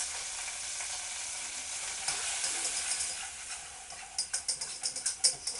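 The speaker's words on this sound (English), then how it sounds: "There's the flour, and we're going to stir that with a whisk." Flour being worked into a roux with a whisk for a chicken supreme pie sauce, a steady frying sizzle with a run of quick rhythmic scraping strokes in the closing seconds.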